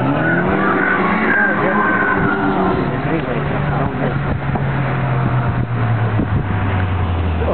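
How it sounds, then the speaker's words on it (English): A Datsun car drifting, with tires skidding and squealing over a loud, revving engine that drones on continuously for several seconds. "here comes his Datsun again"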